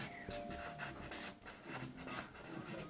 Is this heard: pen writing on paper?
yes